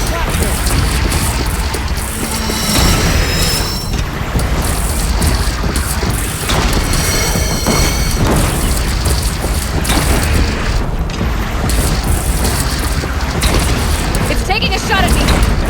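Machine enemies in Horizon Zero Dawn Remastered on Ultra Hard fire at the player, a dense run of booming shots and crashes, loud and continuous over a rumbling battle, with a voice talking over it.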